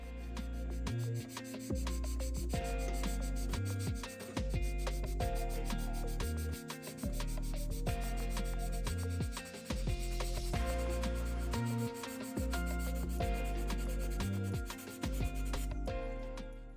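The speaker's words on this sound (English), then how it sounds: "sanded smooth for an even surface ready for paint" A plastic model car body of a Nissan Skyline GT-R is sanded smooth by hand, producing repeated scratchy rubbing strokes in a steady back-and-forth rhythm, close up with brief pauses between passes.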